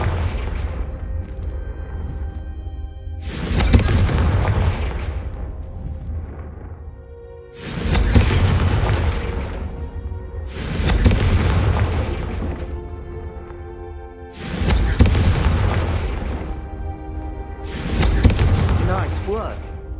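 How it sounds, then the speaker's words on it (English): Repeated Confringo fire spell blasts in the Hogwarts Legacy video game, five loud booming explosions spaced a few seconds apart, each followed by a ringing, rumbling tail over steady game ambience. "I think you'll find that a Confringo cast travels a bit farther than that of a spell like Incendio."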